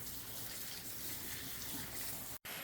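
Steady gush of tap water running over fresh celery being rinsed for homemade juice, a continuous broadband wash with no talk, briefly cut off near the end.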